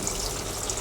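Water runs steadily into a washing machine tub through a working inlet valve solenoid, a continuous gushing hiss close by with no talk over it.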